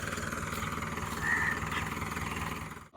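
A tractor engine runs steadily nearby, a continuous low rumbling drone with a faint whine holding for a few seconds before cutting off abruptly at the end.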